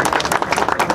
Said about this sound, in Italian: Un applauso, un grande applauso.